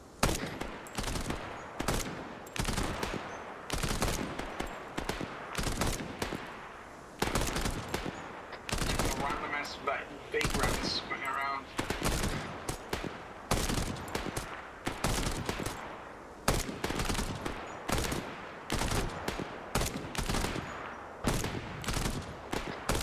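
Rapid gunfire in the Arma 3 video game, dense volleys of sharp cracks and bursts repeating through the whole stretch, some closer and louder and some farther off, with a faint radio-like voice briefly in the middle.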